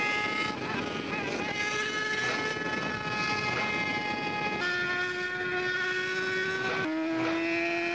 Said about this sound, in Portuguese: Olha o corte de giro, dá atenção.